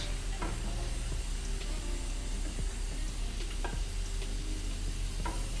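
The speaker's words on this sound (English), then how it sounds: "And allow it to fry." Steady loud sizzling of pepper frying uncovered in a pan, with occasional clinks and scrapes of a utensil stirring.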